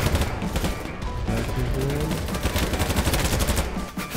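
Dense automatic gunfire from the video game BattleBit Remastered rattles almost continuously, with rapid overlapping shots and faint tonal game sounds, loud throughout.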